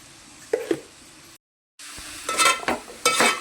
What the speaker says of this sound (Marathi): घालून घेते मिक्स करून सगळं